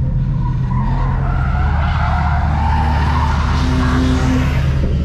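Tires on a Nissan 350Z skid and squeal loudly as the car slides through a U-turn during a canyon run, a sustained screech over a droning engine.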